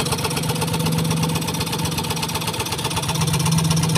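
A Yamaha Mio i125 scooter engine runs after a repair, holding a steady, loud idle with an even buzzing hum and faint knocking vibration throughout, with no talk over it.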